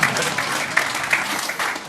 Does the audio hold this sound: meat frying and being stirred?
no